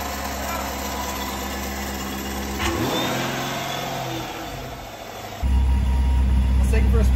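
A Subaru STI engine idling after a jump start, a steady close rumble that dips briefly before a louder, deeper surge of revving near the end.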